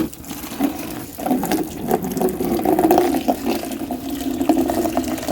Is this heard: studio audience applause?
no